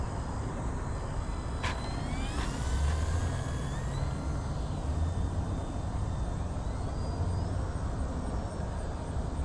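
An FMS PA-18 1300mm STOL radio-controlled model plane flies at a distance, its faint electric motor whine rising and falling in pitch over steady outdoor background noise.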